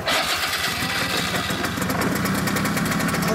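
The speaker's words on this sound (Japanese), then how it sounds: "リード100、エンジン音聞かせてもらえますか" A Honda Lead 100 scooter engine idles close and loud, a dense buzzing rattle holding steady throughout with no pauses.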